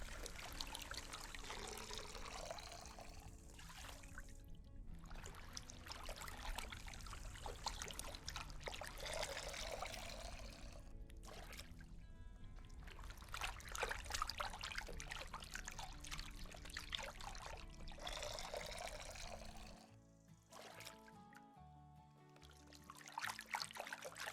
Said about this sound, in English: Get a bit of water in here.